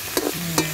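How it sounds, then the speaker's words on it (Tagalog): Okra being stirred as it fries in a pan: two brief scraping strokes over a steady, low sizzle, close and moderately loud, with no talking. "Ayan, stir natin ng kaunti yung okra."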